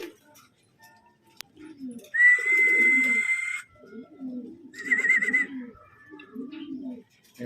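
A racing pigeon coos at a pigeon derby, giving low repeated throaty coos close by, while a bright whistling call and a sharp click cut in above it.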